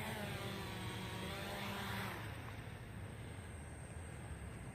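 The motors of a JJRC X1 quadcopter drone disarming after landing, a loud whirring buzz that cuts off abruptly about two seconds in, leaving a faint hiss and a thin high tone.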